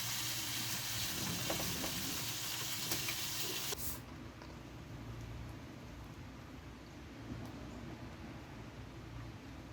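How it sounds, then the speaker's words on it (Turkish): Steady, loud sizzling of oil frying in a pot, a dense crackling hiss that softens partway through, with no talking. "yağ sıçıyor"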